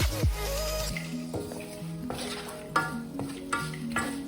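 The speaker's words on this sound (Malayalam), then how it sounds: "മുളക് പൊടി, മഞ്ഞൾപ്പൊടി, വെളുത്തുള്ളി, ഇഞ്ചി എന്നിവ ഒന്നുകൂടി ആഡ് ചെയ്യുക." Chilli powder, turmeric, garlic and ginger are stirred into a sizzling masala for a fish curry: a spoon scrapes and knocks against the pan in several separate strokes over a soft frying hiss.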